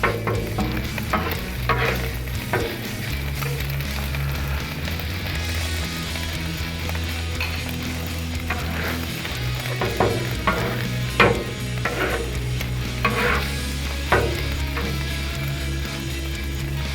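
Eggs poured slowly onto a hot Blackstone griddle and stirred in for breakfast burritos: a steady sizzle runs throughout, with repeated scraping strokes of a spatula against the flat metal surface, and no one speaks.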